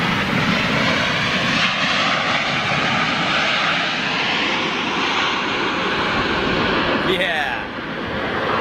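Lufthansa Airbus A380 jet in new livery, a loud sustained engine roar close by that fills the whole span, easing slightly near the end, with people talking over it.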